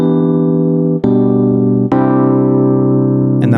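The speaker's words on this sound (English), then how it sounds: "I've got a keyboard patch pulled up" A sustained keyboard patch on an MPC with the tape double track effect switched off, playing held chords that change three times with crisp attacks, loud and close with no talking.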